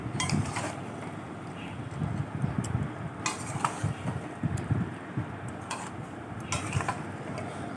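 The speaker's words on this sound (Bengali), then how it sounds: "এবার এগুলো দিয়ে খুব ভালো করে এটাকে কষাবো দইটা দিয়ে বেশ ভালো করে নাড়াচাড়া করবো" Country chicken pieces cooked with yogurt in a pan, stirred and sautéed, giving a steady low sizzle with scraping spoon strokes and occasional metallic clinks against the pan.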